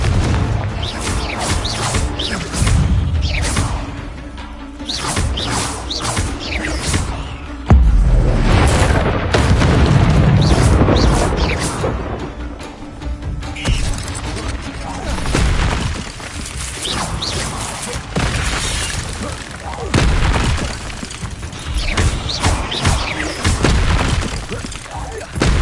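In the Hogwarts Legacy video game on PS5, Confringo spell explosions boom loudly and repeatedly with shattering bursts and rumbling impacts, mixed with combat effects and spoken spell calls throughout.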